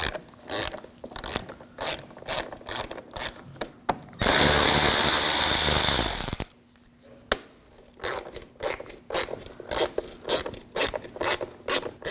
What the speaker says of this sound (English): Now using a T20 socket, take these screws out.